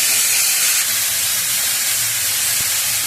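Mixed vegetables frying in a pan with salt and turmeric, a steady loud hiss of sizzling oil that fills the whole stretch without pause.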